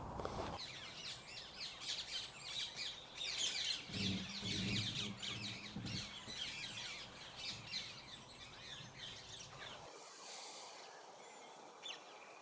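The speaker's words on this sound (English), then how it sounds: "Sitting in the car has allowed me to get quite close to these parakeets, and it's quite funny to watch them feeding on the sunflowers." Ring-necked parakeets feed on sunflower heads, giving off a busy stream of chirps, squawks and calls through most of the stretch that drops away abruptly near the end.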